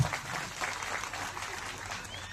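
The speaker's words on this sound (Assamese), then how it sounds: "জোৰে এটা হাত চাপৰি দিয়ক।" An audience claps steadily at a community event, a dense, even wash of applause heard at a moderate distance, continuing without pause and with no voices over it.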